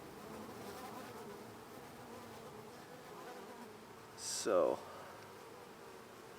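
Honeybees hum in a continuous close drone as they swarm around a queen at a nuc hive, with a voice speaking briefly over the buzzing near the end.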